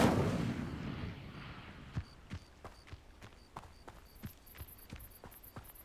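A fire spell cast in the video game Hogwarts Legacy, beginning as a loud rush of noise that fades out, then a string of sharp crackling pops and thuds, with high ringing tones near the end.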